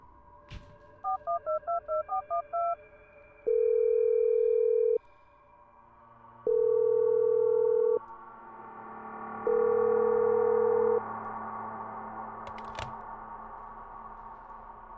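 In an indie horror video game, a phone call to the police plays a quick burst of touch-tone dialing beeps, then three long, evenly spaced ringing tones over a low droning ambience, with no talking.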